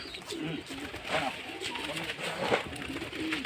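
Several pigeons, a group of about seven roosting together, coo in soft overlapping murmurs across the stretch, moderately near with some background noise.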